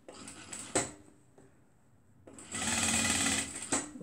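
A sewing machine back-stitches fabric for a cuddle scarf in two short bursts of fast stitching separated by a brief pause, with clicks from the machine, close up and without talk.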